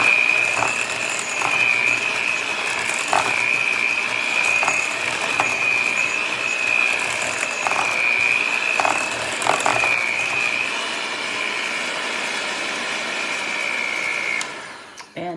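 Electric mixer beating pizza batter until smooth, a steady high-pitched motor whine with rhythmic knocks of the beaters against the bowl, running close and continuous before cutting off at the end.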